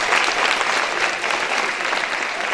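Dense, loud audience clapping at a school National Librarian Day event, a continuous crackle of many hands sustained evenly throughout.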